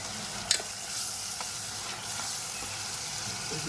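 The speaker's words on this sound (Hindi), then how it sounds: "इसको मसाले को अच्छे से भुनने देते हैं 5 मिनट तक ना।" Masala spices fry in a pan for a matar nimona curry. A quiet, steady sizzle runs under scraping stirring strokes, with one sharp clink near the start.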